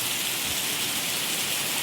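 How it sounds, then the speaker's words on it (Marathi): Heavy rain pours down outdoors in the evening, a dense, steady hiss that stays loud and constant from start to finish with no voices over it. "बघा पाऊस किती मोठा पडतोय"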